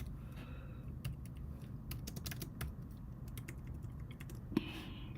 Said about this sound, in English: Sorry, I'm just typing in Discord.